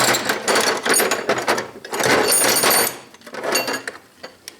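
A Craftsman ratchet is worked in several rapid bursts, its pawl giving dense buzzing clicks that are close and loud, with brief pauses between the runs.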